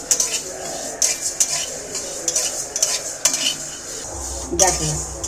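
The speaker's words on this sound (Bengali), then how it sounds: "এইবার আমি মশলাকে সম্পূর্ণ ভালো করে একটু ভেজে নেব" Spoon scraping and clinking against a pan as spices for Hyderabadi-style mango pickle crackle and sizzle in hot oil, with irregular stirring knocks throughout, close and fairly loud.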